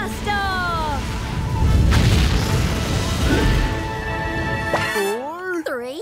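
Cartoon rocket blasting off in Numberblocks: a loud, sustained roaring explosion rumbles for about five seconds under bright musical tones, then falls away as cartoon voices chime in at the end.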